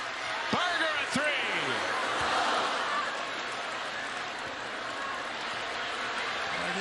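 A record crowd of over 13,000 at an Indiana versus Iowa women's college basketball game roars in a dense, sustained wall of cheering with sharp whistles, under a commentator's talk.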